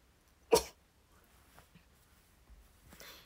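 A single sharp, sudden sneeze bursts out near the start, close and loud, followed by quiet room noise and faint breathy sounds.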